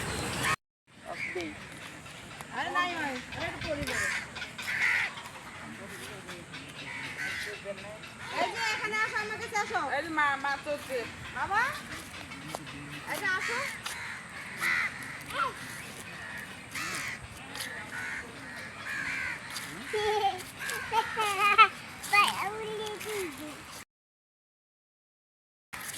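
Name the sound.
bird calling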